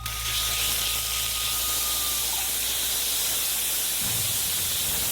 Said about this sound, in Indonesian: Goreng daging babi terlebih dahulu